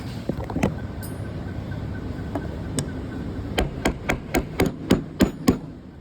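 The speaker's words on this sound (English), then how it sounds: "I'll take another bolt here and just kind of tap it down in there until it goes through" A bolt is tapped down with a hammer into a part of a 10-joint kit for a 12 ft skeleton figure. A few scattered knocks give way to a steady run of about ten sharp, close taps.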